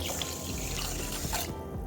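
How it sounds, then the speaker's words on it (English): Tap water running steadily into a bowl of washed moong and urad dal to soak them, a close, continuous splashing pour that stops near the end. "so we will add water."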